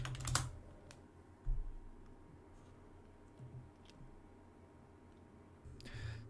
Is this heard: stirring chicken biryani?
no